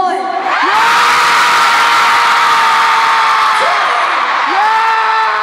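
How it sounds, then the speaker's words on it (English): A New York concert crowd screams and cheers at full volume, a sustained roar of high-pitched shrieks and whoops with rising and falling yells, after a brief moment of a performer's voice at the start. "Scream as loud as you can."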